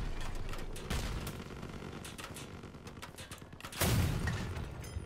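A 100mm tank gun in the vehicle combat game Crossout, with scattered gunfire and mechanical clatter before one heavy, loud boom near the end.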